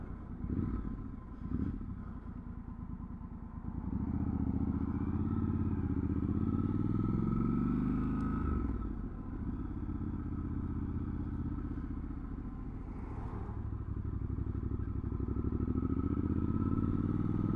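A Triumph 1200 Scrambler XE's exhaust rumbles steadily at close range, with a deep throb that swells and eases a few times as the throttle changes.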